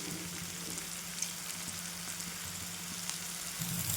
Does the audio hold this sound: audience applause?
no